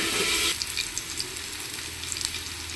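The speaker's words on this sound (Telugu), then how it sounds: "ఇవి కాస్త వేగనిద్దాము" Green chillies and dried red chillies fry in hot oil, giving a steady close crackling sizzle with small popping bursts throughout, no talking.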